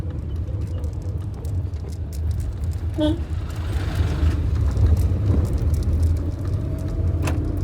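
A manual car pulls away in first gear up a hill, engine held around 2500 rpm, giving a steady close rumble that swells slightly as it climbs, with a brief metallic jingle partway through.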